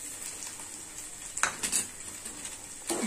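Sugar going into moong dal halwa with ghee in a pan, light scraping and clinking of a spoon against metal in a few brief bursts, close and moderately quiet with no voices.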